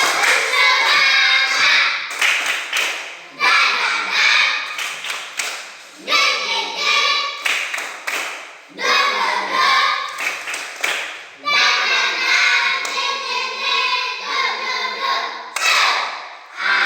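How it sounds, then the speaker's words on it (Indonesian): A group performs a rhythmic spirit clap in bursts of patterned, fairly loud close hand claps broken by short pauses, with voices heard between the sets. "Oke, tepuk semangat ya."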